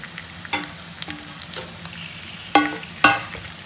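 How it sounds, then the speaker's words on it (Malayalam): Chicken pieces fry in a pan, a steady low sizzle broken by sharp scraping stirs and clinks, two louder scoops near the end as the pieces are lifted out, with no talking. "ചിക്കൻ എല്ലാം നല്ല ഫ്രൈ ആയിട്ട് നമുക്ക് കിട്ടിയിട്ടുണ്ട്"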